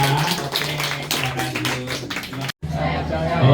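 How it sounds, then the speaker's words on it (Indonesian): An audience claps in applause for volunteers at a church gathering, a dense patter of hands that continues throughout, mixed with voices talking. "tepuk tangan buat teman-teman kita yang sudah menjadi relawan ya"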